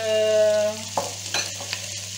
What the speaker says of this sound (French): mon oignon. et je remue.